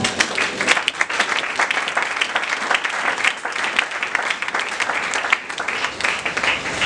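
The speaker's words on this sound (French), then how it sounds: "Est-ce qu'on peut acclamer pour le Seigneur?" A church congregation applauds and cheers for the Lord, with dense, steady clapping that fills the space at full volume and does not break for the whole stretch.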